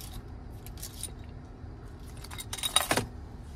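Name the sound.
car key fob jangling as it is handled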